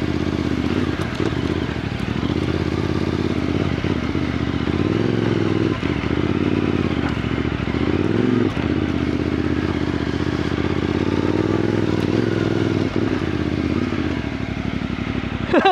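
CFMOTO 450MT adventure motorcycle ridden on an off-road enduro track, a steady close engine drone with clattering, scraping and thumps from rough terrain throughout.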